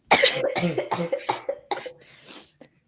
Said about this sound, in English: Now I'm coughing more.